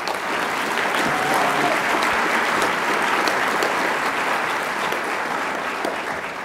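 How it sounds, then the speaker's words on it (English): A large audience claps steadily and warmly at an employee awards ceremony honoring Employee of the Month winners, a dense, even wash of applause sustained throughout with no voices on top. "Let's give them a warm round of applause."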